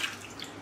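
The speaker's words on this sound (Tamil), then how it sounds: "இப்போ ஃபஸ்ட்டு கேரட்ஸை வாஷ் பண்ணிக்கலாம்." Carrots being washed by hand in a bowl of rock-salt water in a home kitchen, a short, faint splash and drip of water with no talk.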